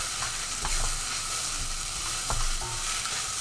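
Onions sweating in a pan for duck vindaloo and onion bhaji give a steady, close sizzle and fry hiss, with a few brief stirring scrapes and clicks and no talking.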